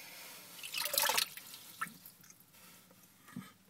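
Water drips and splashes from the plumbing of a homemade sump, a burst of falling water followed by a few scattered drips, fairly close.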